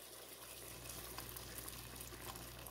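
Water is poured into a pot of marinating steak for fajitas, a steady, continuous splashing rush close by that lasts throughout.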